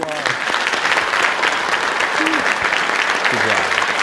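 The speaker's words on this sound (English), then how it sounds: "Give him another round of applause." Audience applause fills a military officer commissioning ceremony, steady and loud throughout, with brief voices and calls mixed into the clapping.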